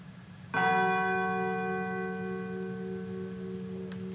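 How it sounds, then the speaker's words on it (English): A large peace bell in Warsaw is struck once at a commemoration ceremony, a clear, resonant tone that rings out alone and decays slowly over several seconds. "we're watching the ringing of the Prezydent peace bell"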